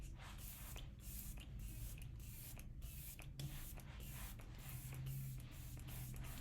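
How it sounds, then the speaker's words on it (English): Setting spray misted onto a face: a run of soft, quick hissing pumps in close succession, very quiet and intimate, with no voices. "Setting spray."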